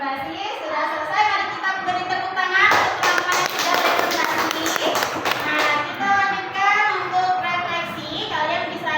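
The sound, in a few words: classroom applause for presenters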